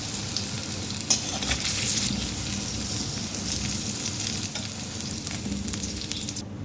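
Potato pieces fry in hot oil for aloo do pyaza, producing a dense, continuous crackling sizzle that stays steady and close throughout, with one faint knock near the start.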